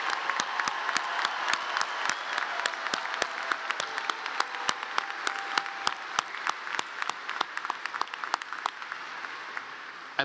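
A large audience at a Clemson University summer commencement claps steadily for new Master's and Educational Specialist degree recipients, dense sustained applause with sharp individual claps standing out and no voices.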